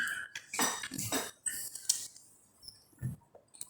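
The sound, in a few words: coffee cups and dishes clinking as coffee is served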